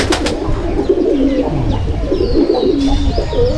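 An old Andhra pigeon of 14–15 years coos close by in a loft, a soft throaty run of repeated low coos with a few faint chirps in the background.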